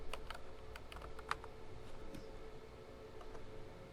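Someone types a configure command on a computer keyboard to set up a network switch, a faint, quick run of key clicks that thins out over a few seconds, with quiet background hiss.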